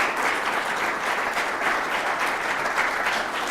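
At a farewell event for Mayor Hicks in Hastings, an indoor audience applauds city staff. The clapping is steady and dense throughout this short stretch, with no voices standing out.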